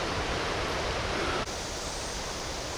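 Halang Jiao Waterfall on a jungle trail of the Bolaven Plateau pours in a dense, steady roar that fills the whole clip, with one brief dip midway before the rushing water carries on.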